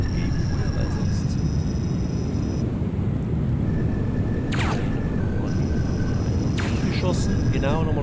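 An aircraft engine roars in the Independence Day video game, a steady, loud, dense rumbling drone that holds without a break, with a few brief whooshing passes on top and speech mixed in.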